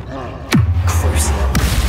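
A Confringo fire spell cast in the Hogwarts Legacy game bursts out in a single sharp, close whoosh-and-thud, then leaves a low rumbling tail, with a second crisp hit near the end and a voice talking over it.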